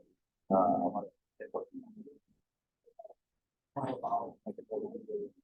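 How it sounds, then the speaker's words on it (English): A small bird coos in soft, dove-like phrases, a few separate bursts with short gaps between, close and clear in an otherwise quiet setting. "Small bird, little bird."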